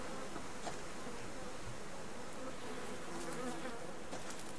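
A continuous buzz of bees from a beehive in a tree hums steadily in the background, faint and even, with no talking.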